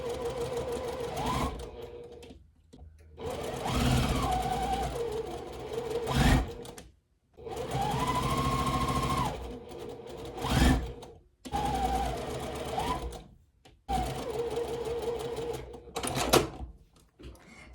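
A sewing machine chain-pieces scrap fabric strips for a quilt, its rapid needle clatter running in bursts of a few seconds separated by short pauses.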